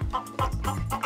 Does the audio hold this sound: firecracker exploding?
no